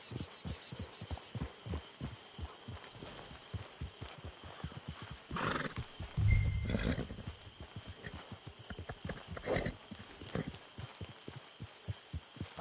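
A horse is ridden in a video game, its hooves beating a steady galloping rhythm throughout, with a loud whinny and snort partway through.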